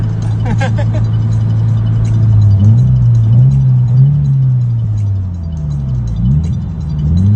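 A Scion FR-S sports car with a Greddy catback exhaust drones deeply, loudly and steadily, its pitch rising and dipping as the engine revs change.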